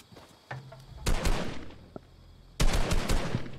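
Gunfire in the Fortnite video game, with a sniper shot among it: sharp bursts of shooting at the start and again near the end, loud and close, with a single quick crack between them.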